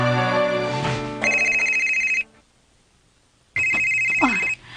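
A cellphone rings loudly and close by in two electronic tone bursts separated by a silent pause, with a voice briefly audible during the second ring.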